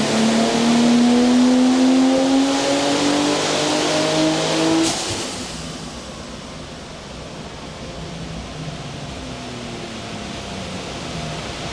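A car engine revs hard on a dyno, a loud sustained climbing roar through the gears for about five seconds, then cuts off to a lower steady whooshing rumble as it winds down.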